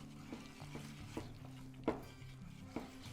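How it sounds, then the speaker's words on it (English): Minced garlic being stirred into a Thai peanut dipping sauce, heard as soft, quiet mixing with a few light utensil taps against the bowl at irregular intervals. "Again, we're gonna mix this up, get that incorporated."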